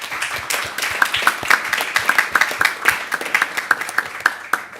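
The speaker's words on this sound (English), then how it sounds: "Please join me in a final round of applause for our panelists." Audience applause for panelists at a climate negotiations session on the Kigali Amendment, with scattered individual claps close by standing out over a rhythmic round of clapping that builds and then thins.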